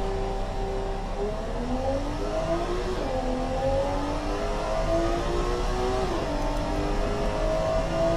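A sports car from the early 2000s, built in the game Automation, accelerates hard with no one talking. Its steady engine tone climbs through the gears with rising, sweeping pitch, loud and continuous throughout.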